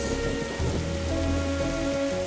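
Steady, close rain pattering on a rooftop in the game The Darkside Detective, a dense even hiss that runs unbroken throughout.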